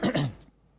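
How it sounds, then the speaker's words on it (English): A single short, close cough, a quick harsh burst that dies away into quiet. "I hope it's just a cough"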